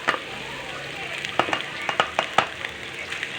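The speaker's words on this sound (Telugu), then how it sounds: "ఇప్పుడు సేమియా వేసేసుకుందాం." Semiya vermicelli hits hot oil with carrot and potato pieces, giving a close, bright sizzle broken by crisp ticking clatters as it is stirred in the pan.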